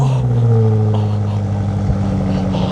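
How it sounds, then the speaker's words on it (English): A tuned BMW X6M Competition runs with its cold start on, a loud, deep engine roar with a throbbing low rumble that sustains throughout, close to the car. "listen to this X6M competition with the cold start on"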